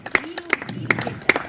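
Audience clapping at a Hindi poetry gathering in Kurukshetra, with a few sharp, spaced claps standing out over a soft murmur of voices.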